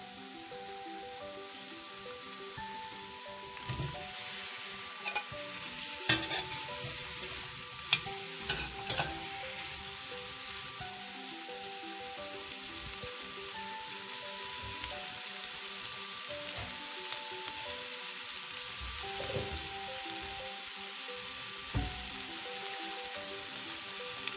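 Tomato stirred into a hot frying pan of oil with cinnamon stick, red chili and cardamom for homemade malai kofta, a steady close sizzle broken by repeated scrapes and knocks of a spoon, with no talking.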